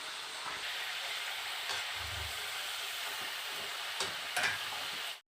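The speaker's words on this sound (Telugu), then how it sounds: "చూసారు కదా చక్కగా ఆలు కూడా మనకి మొత్తం ఫ్రై అయిపోతుంది." Potato pieces for potato avakaya pickle fry in hot oil, giving a steady close sizzle with occasional scraping and clinks from stirring before the sound cuts off.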